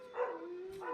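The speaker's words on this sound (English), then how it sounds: "excuse my dogs, it's time for them to come out." A dog gives a couple of short, close barks and yips about half a second apart, loud against a quiet room.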